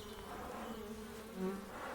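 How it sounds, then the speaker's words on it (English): Close, steady buzzing of bees hovering around, a continuous insect drone with small shifts in pitch, no voices. "These bees have come from the sky too, with weighty sacks of pollen on their legs"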